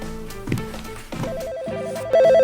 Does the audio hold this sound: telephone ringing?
yes